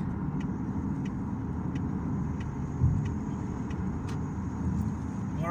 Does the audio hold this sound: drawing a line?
no